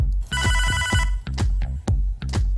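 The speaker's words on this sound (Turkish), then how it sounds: "Telefon." A telephone rings in the video game Hotline Miami 2, loud repeated electronic ring bursts with short gaps between them, sounding alone over a deep pulsing game soundtrack.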